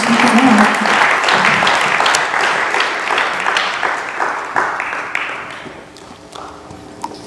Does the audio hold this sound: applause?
yes